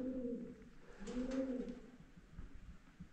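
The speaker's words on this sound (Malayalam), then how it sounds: "മൂങ്ങ" Soft hooting calls of an owl inside a cave, a few low, droning notes repeating with a slight echo against faint background noise, with no talking.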